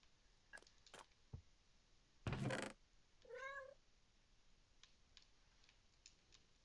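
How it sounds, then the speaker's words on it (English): A cat in the Minecraft video game lets out a single distinct meow midway through, surrounded by scattered soft clicks and a brief burst of clatter, with no talking. "I hear you, kitty."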